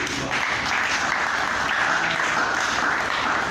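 A church congregation claps together in praise, a loud continuous wash of many hands that holds steady throughout the moment.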